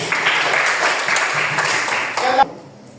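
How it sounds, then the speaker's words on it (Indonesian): A crowd claps in steady applause for a couple of seconds, then it stops abruptly. "Kita beri tepuk tangan."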